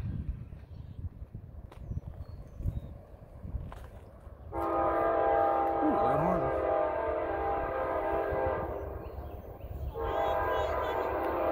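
An Amtrak train passes northbound at Bassett Avenue, its horn blaring loud and sustained in two long blasts over the rumble of the rail cars, after a few seconds of quieter ambient noise with faint talk.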